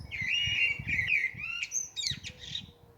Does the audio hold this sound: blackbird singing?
yes